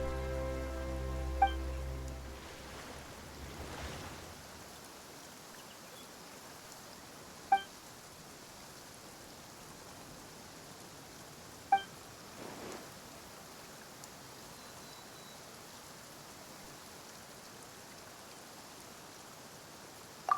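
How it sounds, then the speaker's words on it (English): Steady rain falls in the Genshin Impact game world, a soft continuous patter heard alone after a brief low rumble at the start, with a few faint sharp drips standing out. "Why is it raining all of a sudden?"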